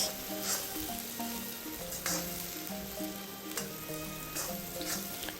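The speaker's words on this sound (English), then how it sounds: "Continue sauteing" Onion pieces sautéing over a high flame for prawns in black bean sauce, Chinese style, giving a steady close sizzle with periodic scraping stirs, alone without talk.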